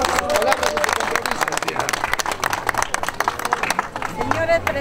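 A crowd at a village patronal festival and presidency handover in San Jerónimo de Tunana breaks into sustained applause, dense rapid clapping close by, with a murmur of voices underneath before the clapping starts to thin out near the end.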